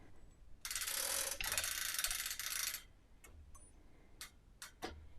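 Quilt back being rolled onto a quilting frame: a long ratcheting burst of rapid clicks, then several separate sharp clicks and knocks, close and fairly clear.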